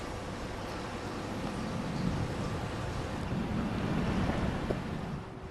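Ocean surf and gusting wind on the open beach of South Core Banks in Cape Lookout National Seashore, a steady broadband wash of breaking waves and wind rumble against the microphone, continuous and fairly even throughout.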